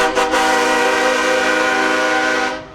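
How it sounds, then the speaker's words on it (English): A loud, sustained multi-tone train horn on a Ford F-250 pickup blasts for nearly three seconds, with a couple of quick stutters at the start before fading out at the end. "We have another contender in the Train Horn Nationals"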